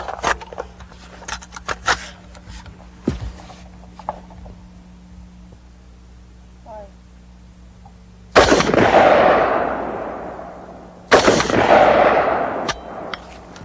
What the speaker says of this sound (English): Just for the heck of it, we're going to try 223 tracer.